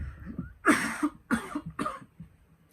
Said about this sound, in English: Excuse me, I need to cough for a second.